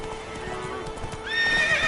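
Roach, a horse in the game The Witcher 3, gallops with rapid rhythmic hoof clops, then lets out a loud, high neigh in the last moment, all close by.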